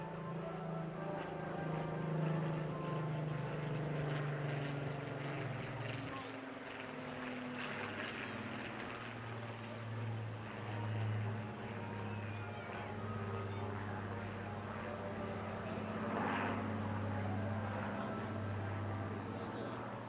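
A Spitfire making its final display pass at the Bournemouth Air Festival, its piston engine droning steadily at middle distance and rising and falling in pitch as it manoeuvres, with commentary talking over it throughout.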